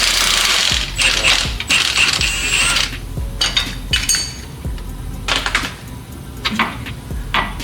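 A ratchet works a 21mm locking nut on the suspension of a 1999 Camaro, with repeated metallic clicks and clinks in uneven bursts, close by and with no talk.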